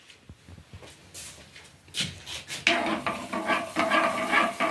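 A spoon stirs sugar syrup in a pan, with scraping, rubbing strokes against the metal that grow louder and more continuous after a few quiet opening taps.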